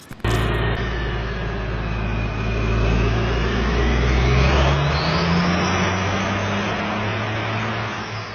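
A 2,000-horsepower dually pickup truck on a dyno, its engine roaring loudly and steadily under load, the pitch climbing through the pull before easing off at the end, with no voices.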